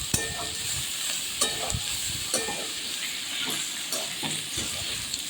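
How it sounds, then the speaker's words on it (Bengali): Chicken pieces being stirred in a frying pan for a home-style chicken stew: a steady sizzle and hiss under repeated spoon scrapes and knocks against the pan, close by and with no talk. "এবারে দিয়ে দিলাম আমি চিকেনগুলো তো চিকেনটা এরই সঙ্গে একটুখানি আমি নেড়ে নিচ্ছি"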